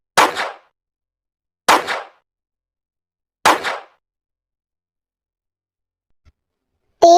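Three sharp gunshots ring out about one and a half seconds apart in a dramatic story scene, each a loud crack with a short decaying tail, followed by silence and then a brief burst of sound at the end.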